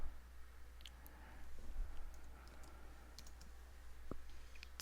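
A few sparse, faint mouse clicks on a computer's update button, isolated ticks against a quiet room hum with no talking.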